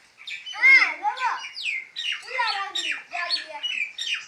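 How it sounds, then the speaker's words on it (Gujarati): An Asian koel gives a run of harsh, squawking calls at close range, one after another with a loud burst near the start, alone against an otherwise quiet background. "કોયલ આવી અમારે ઘેર કોયલ"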